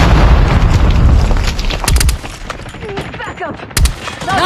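Gunfire in a Call of Duty Mobile multiplayer match, loud dense bursts at the start, then a few sharp separate shots and a late boom, with game voice callouts mixed in.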